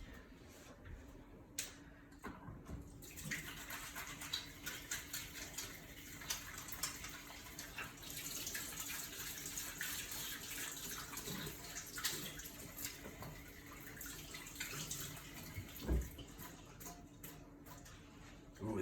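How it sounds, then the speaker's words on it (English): Tap water runs steadily into a sink while hands are washed, a soft continuous splashing with faint clicks and brief louder spatters near the end. "first I'd better wash my hands."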